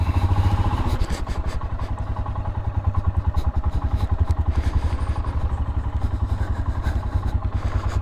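Royal Enfield Himalayan motorcycle running close, a loud steady single-cylinder thump that pulses rhythmically throughout, with occasional clatter over the engine.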